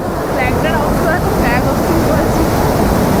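Cheeyappara waterfall in Munnar, Kerala, swollen by monsoon rain: a loud, steady roar of rushing water fills the clip without a break, with faint voices in the background.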